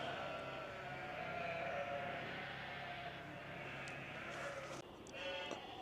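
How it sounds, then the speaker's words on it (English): Sheep bleat faintly in a rural field near the ruins of a medieval church, with a farmer nearby; the calls are distant and low under steady outdoor ambience. "That's why the sheep are going nuts."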